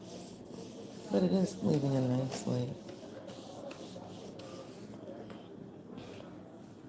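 A face scrubber rubs paint onto a painting's background, giving soft, close scratchy strokes in short bursts, with a quiet voice speaking briefly over it.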